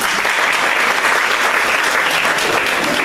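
Dense, loud applause fills an annual general meeting hall as the audience claps for a woman, a continuous even roar of many hands with no voices over it.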